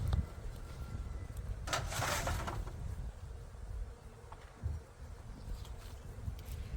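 Honey bees hum from an opened hive box during a February hive check, a faint, steady drone with a brief louder rustle near the middle.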